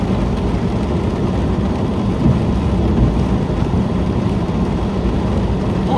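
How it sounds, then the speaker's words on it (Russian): Heavy rain pouring steadily in Lazarevskoye, Sochi, a dense continuous wash of drops on surfaces with low rolling thunder rumbling beneath it. "Может быть, после обеда, уже к обеду ближе, дождик закончится."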